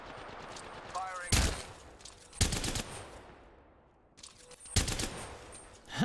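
Automatic gunfire in the video game Apex Legends: three loud, sharp bursts at roughly one-second intervals over quieter game ambience, with speech in between.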